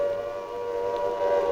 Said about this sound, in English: Someone, it seemed, had decided to test all the sirens